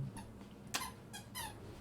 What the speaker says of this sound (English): the dog has a squeaky toy